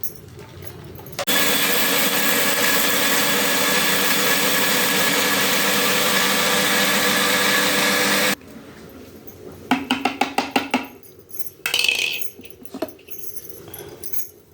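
A mixer grinder whirs steadily for about seven seconds while grinding spices, including peppercorns, for a mutton curry. It then cuts off, leaving a few clattering knocks and rattles of the jar.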